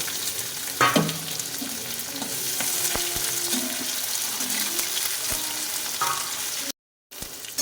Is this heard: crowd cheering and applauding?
no